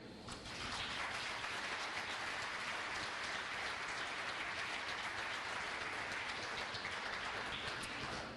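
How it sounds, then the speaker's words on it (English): Sustained applause for volunteers at a chamber of commerce banquet, a broad even roar of many hands clapping that holds steady and fairly distant. "you owe these guys a huge round of applause and a thank you"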